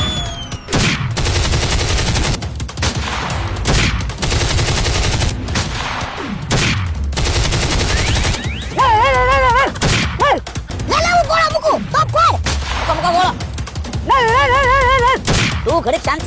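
Gunfire effects in a Gujarati village comedy sketch, with bursts of loud cracks and rapid volleys in the first half, followed by warbling siren-like effects and scattered shouting voices.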